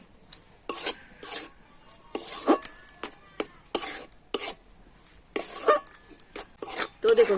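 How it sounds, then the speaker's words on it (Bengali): Date palm jaggery and milk powder being mixed by hand in a bowl, heard as a run of brisk, close scraping and clinking strokes in irregular bursts with short pauses between them, and no talking. "তো সমস্ত কিছু একটু ভালো করে প্রথমে মিশিয়ে নেব।"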